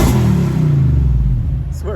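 Car engine revving hard with exhaust popping while being towed-capable vehicle just finished by a mechanic, a loud sustained low rumble close by, ending with a brief higher burst.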